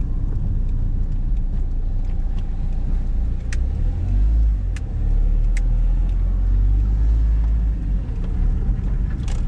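A 2003 Fiat Doblo 1.9 diesel rumbles along while driving and turning slowly, its engine a steady low drone that swells as it pulls away, with a few small clicks from the cabin and no talk.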